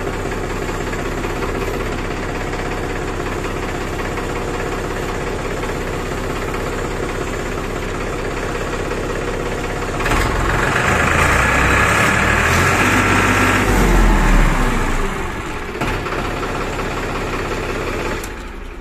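Farmtrac 45 Classic tractor engine chugging at a steady idle, close and loud, with a heavier surge of revving partway through before settling back to idle.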